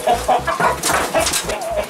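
Adult hens clucking in a coop, several birds overlapping in short, busy bursts, close and fairly loud with no talk.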